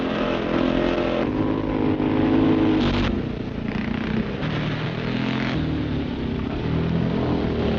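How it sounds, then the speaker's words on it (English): Scrambling motorcycles ride through a sand and gravel pit in Essex at a Sunday morning practice, several engines snarling and revving together at loud, close range, rising and falling as the bikes accelerate. "this impromptu Sunday morning scrambling practice"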